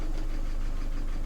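A Peugeot 407 with an EW12J4 engine idling: a steady, even mid-pitched hum and low rumble, close by and fairly quiet, with no revving.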